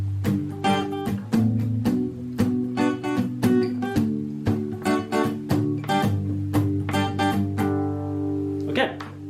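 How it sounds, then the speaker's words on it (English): Palm-muted chords on a guitar, short damped strums in a steady rhythm, moderately quiet and close, with a few looser ringing strokes near the end. "So you can actually palm mute the whole thing,"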